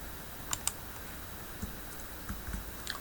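Keys on a computer keyboard are tapped in a few sparse, faint clicks against a quiet room hiss, with no talking.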